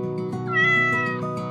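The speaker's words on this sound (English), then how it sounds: "Cat. C-A. T. Cat." A single cat gives one clear, close meow that rises and then falls over about a second and a half, heard alone.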